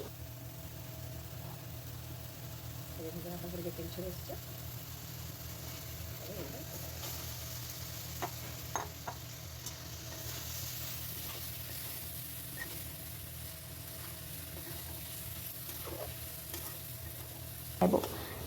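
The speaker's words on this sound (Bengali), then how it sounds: "ভেজে রাখা কাঁচা টমেটো আর আলু ওতে আমরা দিয়ে দেব এবং ভালোভাবে নেড়ে নেব" Fried green tomato and potato are stirred into spices in oil, a soft continuous sizzle under repeated spatula scrapes and clinks, ending with a louder clatter.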